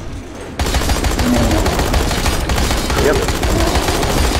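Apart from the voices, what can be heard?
gunfire from a gun in the video game Dying Light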